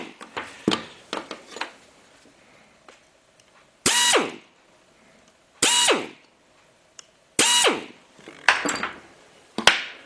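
A 9/64 through bit drills a slightly oversized rivet hole in a Willys emergency brake shoe lining, heard as three loud, sustained bursts of a couple of seconds each amid lighter tapping and handling clatter.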